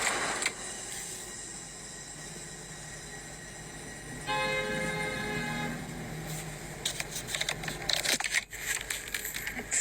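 A Dodge Journey drives past a house and honks, giving one sustained, steady horn blast of about two seconds midway, surrounded by the hiss of the passing car and later clattering noise.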